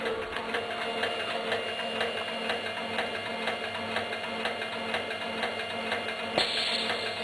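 A small PLC-controlled amusement ride model running its cycle, a fast steady mechanical whirring and ticking with a regular rapid beat and no voices, ending with a soft click.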